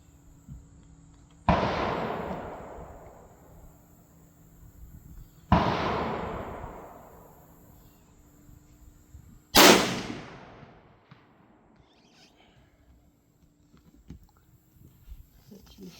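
Three loud gunshots from an old Marlin 336 lever-action rifle at a shooting range, each a sharp crack with a long fading echo, spaced about four seconds apart, with quiet faint ticks between.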